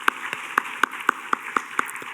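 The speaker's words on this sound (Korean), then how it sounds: "우리 박수 쳐주면 좋겠습니다" A church youth congregation claps together in a steady, even rhythm of about four claps per second, with a soft room hiss underneath.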